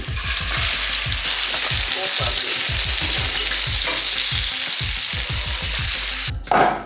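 Chorizo beef burger patties fry in olive oil in a hot pan, a steady loud sizzle with crackling pops throughout, ending in a brief burst of louder spitting.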